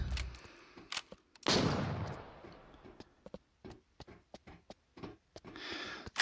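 Gunfire in the Lost Light shooter game, a loud opening burst followed by a run of short, sharp shots at irregular intervals, some close and some softer, with no talking.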